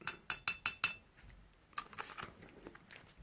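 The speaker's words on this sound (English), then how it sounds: "Okay, so the tea is now ready. Just gonna mix it in a little bit." A spoon stirring freshly brewed chamomile and peppermint tea in a cup gives five quick, bright clinks in a steady rhythm, then a softer, looser run of taps and scrapes, all close and fairly quiet.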